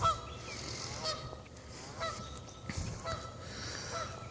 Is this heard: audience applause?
no